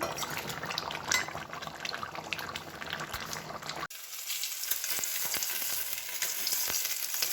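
Chicken curry gravy sizzles and bubbles steadily in a pan, heard close up and fairly quiet, with stirring scrapes and a sudden change in tone partway through.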